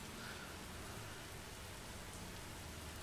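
Rain falling in a roleplay video game, a soft continuous hiss of steady rainfall with a faint patter, low in level and unbroken.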